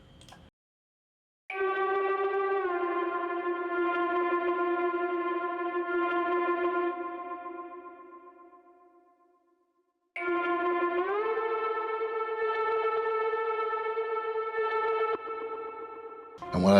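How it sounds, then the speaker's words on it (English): An ethereal synth pad from Artistry Audio Scorpio plays two long, sustained, shimmering tones with reverb and chorus-like effects. The first slowly fades away, and the second has a slight upward pitch bend, both sounding alone. "kind of this ethereal pad sort of sound over the top here."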